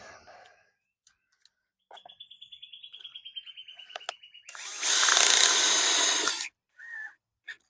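A power drill drives screws into a stair rod while a vinyl liner is fitted to an inground pool's steps, with a ratcheting clutch clicking, then a loud sustained whirring burst, followed by short clicks and a brief spin.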